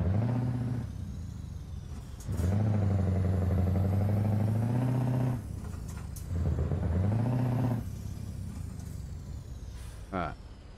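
Truck engine from Euro Truck Simulator on a multiplayer server, a steady droning idle and rev that rises and falls in several loud sustained bursts, broken by short quieter gaps.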